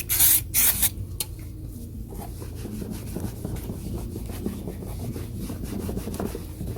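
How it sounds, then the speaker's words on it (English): Brake cleaner sprayed onto the brake disc surfaces of a Ford Fiesta Titanium MK7: a loud close hiss in short bursts at the start, then a steady low rubbing wipe across the metal. "I got some brake cleaner, so we'll give the surfaces a wipe over"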